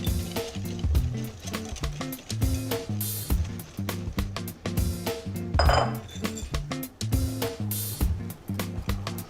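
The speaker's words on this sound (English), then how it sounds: "I'm just going to take the dry ingredients, whisk them in." A whisk rhythmically clatters against a bowl while dry ingredients are whisked into cake batter, producing steady, close clinks and scrapes that repeat for the whole stretch with no talking.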